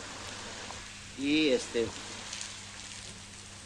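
Rain falls steadily across a city street during a power outage, a constant hiss, with a voice briefly breaking through in the middle.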